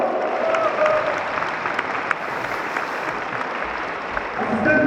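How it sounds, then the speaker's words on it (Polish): An indoor audience at a second-league football club's team presentation applauds the team's coach with steady, dense clapping that stays loud and even for about five seconds. "Naprawdę wielkie brawa!"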